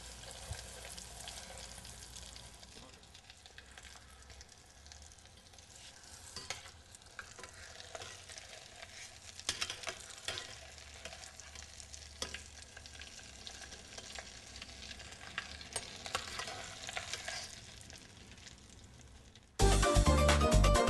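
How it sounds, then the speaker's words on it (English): Gluten-free croquetas fry in coconut oil over very low heat, giving a steady, close, crackling sizzle that runs unbroken for about twenty seconds, dotted with small pops and stirring noises, and ends in a sudden louder burst. "Once you're done doing that with all the paste, then we're going to fry them."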